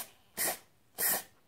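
Two short aerosol bursts of cleaner spray from a tin onto an idle control valve, each a loud, close hiss lasting about a quarter second, separated by a brief quiet gap.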